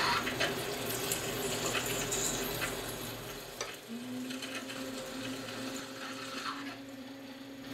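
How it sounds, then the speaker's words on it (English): A lathe boring bar cuts a taper inside a grinding wheel adaptor, giving a steady machining whir with a continuous tonal hum and broadband cutting noise that holds throughout, close and moderately loud. "now we are boring the taper"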